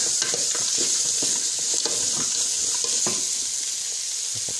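Pork skin stir-frying in hot oil: a steady, loud sizzle runs throughout with frequent sharp scrapes and clicks of a spatula stirring the pan, close by and without voices.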